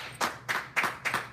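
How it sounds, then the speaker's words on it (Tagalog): A small crowd gives a short burst of applause, four distinct waves of clapping, somewhat distant and modest in volume. "Gusto ko lang mapalakpak kayo."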